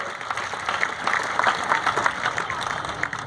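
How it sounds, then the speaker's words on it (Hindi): Audience applause at a live Hindi comedy poetry show, a dense, steady patter of many hands clapping for a few seconds, moderately loud and filling the room. "एक बार तालियां बजा दो"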